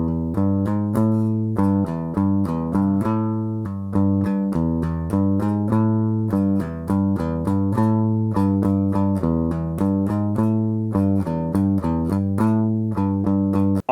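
Electric guitar picks out a riff in third position, a steady, evenly accented run of repeated plucked notes with short gaps between phrases, loud and close with no talking.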